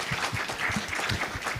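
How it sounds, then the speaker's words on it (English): Steady clapping from a crowd, a dense patter of many hands with no voices on top. "maybe a big round of applause for our distinguished panelists"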